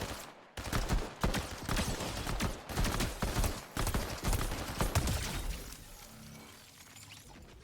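Gunfire in the Fortnite video game crackles in dense, loud bursts of rapid shots that come in waves with brief pauses, close up and with no talking.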